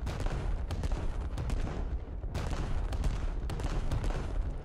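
Battleship shells firing in a naval combat video game, heard as dense, rumbling booms and cracks in a continuous loud barrage with a brief lull midway.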